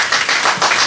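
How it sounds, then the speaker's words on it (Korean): Audience applause at a Korean project information session, breaking out as the first lecturer is introduced; a short, steady burst of many hands clapping together, fairly loud and with no voices over it. "큰 박수 부탁드리겠습니다"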